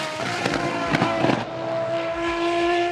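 The Aston Martin Valkyrie's V12 engine screams in the Le Mans Ultimate racing game, a loud, high, sustained whine with crackling pops on the overrun as revs fall and climb again.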